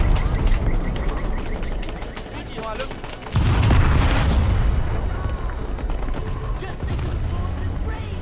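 Heavy booming artillery blasts in a Vietnam war video game set in the Ia Drang Valley, a loud rumbling impact erupting midway over a constant din of distant gunfire and battle noise.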